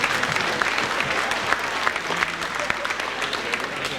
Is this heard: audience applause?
yes